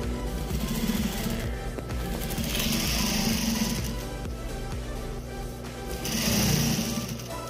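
A sewing machine runs in steady bursts while stitching a doormat, a moderate mechanical whir with a low hum that swells and fades twice, sounding close and alone without talk.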